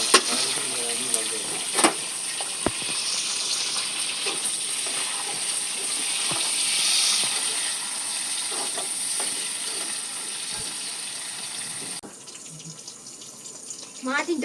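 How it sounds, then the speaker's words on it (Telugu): Onions, cumin and green chillies frying together in a tempering for an old-style chutney, a steady hiss and sizzle with occasional clinks and stirring, and someone talking over it at times. "ఉల్లిగడ్డలు, మంచి జీలకర్ర, పచ్చిమిరపకాయలు అన్నీ ఒకటేసారి వేసినాం"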